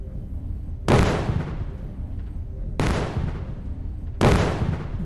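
Three heavy explosions go off in a GTA 5 style mobile game, each a sudden broadband blast that decays slowly, spaced about two seconds apart over a low rumbling background.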